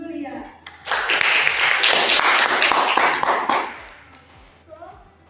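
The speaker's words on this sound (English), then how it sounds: "Give applause to Zulia." Classmates applaud in a university class session, a burst of clapping that rises abruptly after a moment of near quiet, holds fairly loud for about three seconds, then fades into sparse taps.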